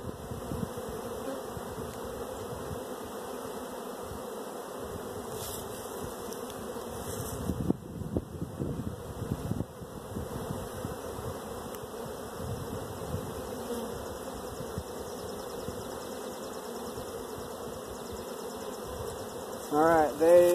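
Honeybees buzz over hive frames of brood, a steady close droning hum with occasional handling noises and a louder burst near the end.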